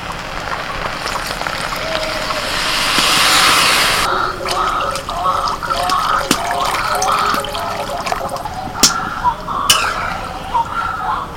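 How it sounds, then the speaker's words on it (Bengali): Water pours into a pot of old broken rice grits for cooking. A few seconds of rushing flow give way to splashing and dripping, with a voice talking under it. "এবার জল দিয়ে দেবো।"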